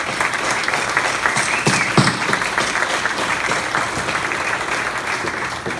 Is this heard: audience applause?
yes